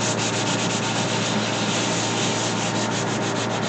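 A kiln shelf is sanded with a number 60 diamond core sanding pad, giving a loud, continuous abrasive rasp with a faint rhythmic back-and-forth pulse and no voices.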